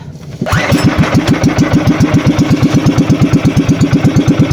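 A small boat engine coughs into life and settles into a steady, rapid putter, a loud chugging idle close by with no voices.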